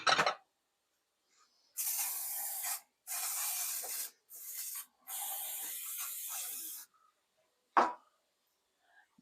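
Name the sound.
cooking spray sprayed into a casserole dish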